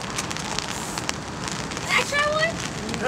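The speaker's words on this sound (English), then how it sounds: "It's raining, I gotta paint quicker." Rain falls on an outdoor street scene beside a wall being spray-painted, a soft, steady patter with crackling drops throughout, while faint voices and a brief high whistle-like sound come through near the end.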